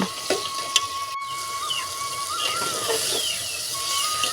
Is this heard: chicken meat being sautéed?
yes